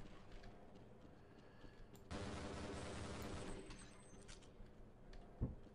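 Sustained gunfire in the video game Half-Life, a dense rattling fusillade that bursts in loud at about two seconds and keeps going, with one heavier shot near the end, and no voices.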